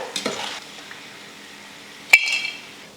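A spoon stirs fried cluster beans in a hot pan, giving soft scraping sounds with a faint sizzle underneath and one sharp utensil clink partway through.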